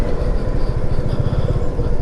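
A motorcycle rides along a mountain road toward Munsyari with a steady, close engine roar and rushing wind noise, unbroken throughout.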